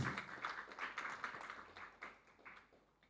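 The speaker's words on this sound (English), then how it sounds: "Give them a round of applause" An audience claps for two guest speakers being welcomed at a literary talk, a steady patter of many hands that stays fairly faint and distant for about three seconds before thinning out.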